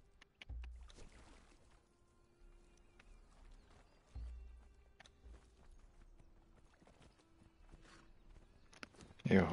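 A horse walks in Conan Exiles, its hoofbeats landing as soft, low clip-clops among game sounds, with a louder burst right at the end.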